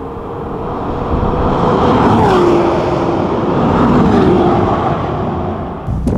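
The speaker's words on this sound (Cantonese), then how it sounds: "架車喺直路一嘢轟過嘅時候，你就聽到佢似一架飛機破緊空氣" A McLaren Senna, a road-legal track car, roars past on a straight with a loud, sustained rush of engine and wind that swells and fades over several seconds, with no talking.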